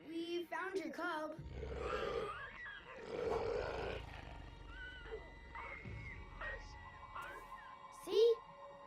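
Animated saber-toothed moose lion from Avatar: The Last Airbender roaring and growling in several bursts, with a loud snarl near the end, mixed with cartoon dialogue and voices.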